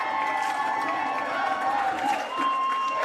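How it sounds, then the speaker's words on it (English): Iranian supporters in the stands of a men's football final at the IFCPF Asia-Oceania Championships, a dense, sustained crowd roar with cheering and shouts that stays loud and continuous throughout. "I'm not sure if the listeners at home can hear the Iranian faithful going absolutely ballistic in the stands here"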